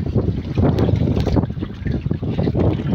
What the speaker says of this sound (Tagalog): Malakas yung hangin dito ngayon guys